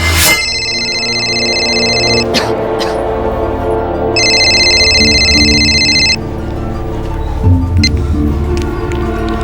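A telephone rings in two bright, electronic bursts about two seconds long, separated by a pause, over a low dramatic music bed with soft knocks and movement.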